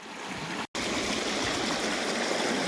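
A fresh, fast-flowing forest stream rushes steadily and loudly, close by, with a continuous bright splashing wash and one brief cutout partway through.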